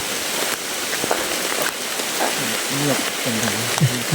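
Steady rain patters on a surface, a dense even hiss throughout, with faint low murmuring voices near the end.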